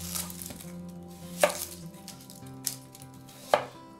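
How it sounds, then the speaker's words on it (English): A knife cutting onions on a board, with a few distinct chopping thumps spaced about a second apart over a soft background hum. "For this, we're gonna cut our onions in half and kind of keep them fairly large."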